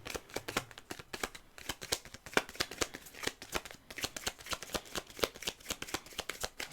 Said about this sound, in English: Don't like the way that was shuffling.